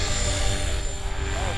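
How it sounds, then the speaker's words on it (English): A helicopter whips around overhead near a drone launch site, a dense steady rotor and engine roar filling the background throughout the brief moment. "That noise you hear in the background is that helicopter whipping around."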